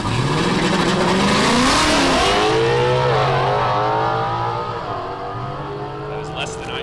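Late model Mustang launching off the line at a street drag race, a loud engine roar with rising revs and tire squeal that fades after a few seconds, with an announcer talking over it.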